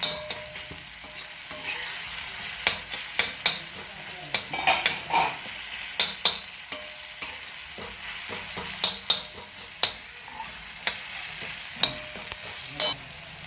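Chopped cluster beans (gavar) roast in a little oil in a pan with a soft steady sizzle, punctuated by repeated sharp scrapes and clacks of a spatula stirring at an uneven rhythm; no talking.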